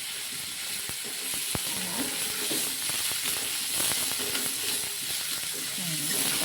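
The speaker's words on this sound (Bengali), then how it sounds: "হালকা ভাজতে হবে, বেশি না, জাস্ট একটুখানি তেলের মধ্যে নাড়াচাড়া করা" A steady sizzle and hiss of fish cooking gently in a small amount of oil, with sharp clicks and scraping stirs from turning the pieces, recorded up close; a faint voice may murmur underneath.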